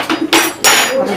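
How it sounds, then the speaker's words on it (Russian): Spoons and cutlery clink at a birthday table as cake is served, with a few close, sharp metallic knocks in quick succession. "Разбирайте ложки."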